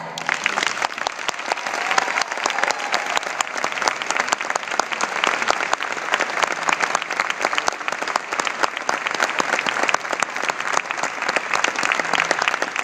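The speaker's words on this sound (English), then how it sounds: "Members, greet your new officers and pledge your support for them with applause." An audience of club members applauds newly installed officers at an installation ceremony, a dense, sustained wash of clapping that stays loud and even from start to finish.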